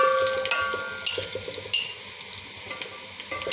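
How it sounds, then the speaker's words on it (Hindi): Cumin seeds added to browned onions frying in a pan: a steady, close sizzle and crackle with a few light spoon scrapes and taps, no voices. "अब हम इसमें जो है वो ज़ीरा डालेंगे"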